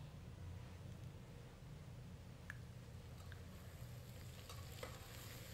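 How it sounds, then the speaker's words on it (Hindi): Carrots, potatoes and other vegetables for pulao are stirred while frying in an open pan, giving a soft, steady sizzle with a few faint scraping clicks and no voices. "इसे हिलाते रहिए, नहीं तो ये नीचे लग जाएगी सब्जी"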